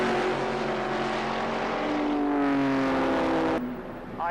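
MGA sports cars race past on a circuit during a club race, their engines roaring loudly and continuously as they sweep by close, with the pitch shifting as they pass and then fading away.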